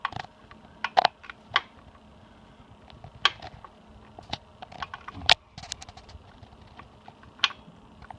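A 1/2 inch drive ratchet with a knuckle turns a bolt off a Harley Ironhead engine during check valve cleaning, giving sparse, irregular quiet clicks and short ratcheting bursts close by.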